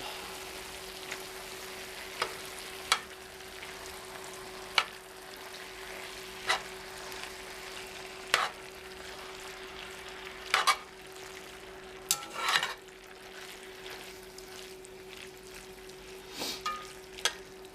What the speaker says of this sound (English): And I'm going to mix it all up.